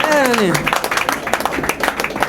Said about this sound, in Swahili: Basi si hata makofi jamani